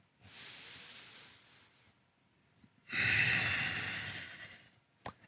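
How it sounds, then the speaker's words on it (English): Deep breathing while holding a standing yoga pose: one long, soft exhale, a pause, then a stronger, fuller breath out, close and with no speech. "One more breath here."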